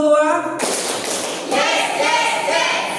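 Classroom group clapping together in a rhythmic cheer, a voice first then loud sustained crowd claps starting abruptly and swelling again near the middle.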